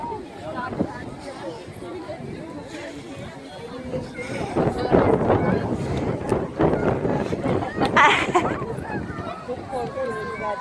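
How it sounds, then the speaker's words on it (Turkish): Gusty wind at a beach buffets the microphone with a rough, low roar that grows stronger midway, while several people talk and call out in the background. "Çok rüzgar var yine."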